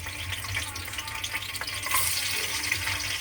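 Chopped garlic fries in hot oil in a pan, a steady close sizzle and crackle with light stirring clatter, growing a little louder partway through.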